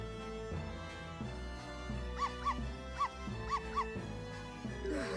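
A cartoonish dog in the Professor Layton vs Phoenix Wright video game lets out a run of small, high yips in pairs and singles over a steady musical background, with no talk.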